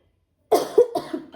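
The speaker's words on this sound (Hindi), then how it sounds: "खांसी है।" A single harsh cough followed by a couple of smaller rough coughs, close and loud after a moment of silence.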